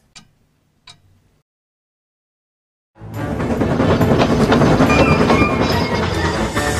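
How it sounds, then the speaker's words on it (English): Two faint clicks, then silence, then a loud continuous rumble of a goods train rolling on rails with rhythmic clattering, steady until the end. "Once I deliver this goods train, the Fat Controller will make me his favorite engine!"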